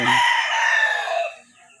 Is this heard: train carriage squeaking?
no